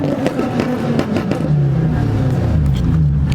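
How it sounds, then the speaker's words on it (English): A Dodge Challenger engine revs loudly and steadily up close, a deep continuous rumble with no talking over it. "I know this Challenger ain't trying to out rev us"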